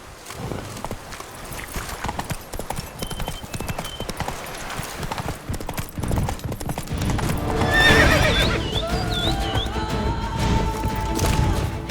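A horse's hooves clip-clop rhythmically in The Witcher 3: Wild Hunt, loud and close, building to a faster gallop with a neigh near the end, while someone speaks briefly.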